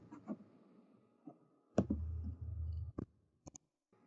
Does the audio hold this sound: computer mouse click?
yes